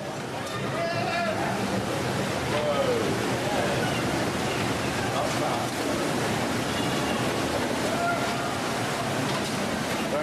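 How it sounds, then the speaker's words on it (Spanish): Tsunami waves from the 2004 Indian Ocean tsunami crash against a hotel complex, producing a continuous loud roar of surging water with wind noise, with faint voices scattered throughout. "grababa las mismas olas, rompiendo contra su complejo hotelero."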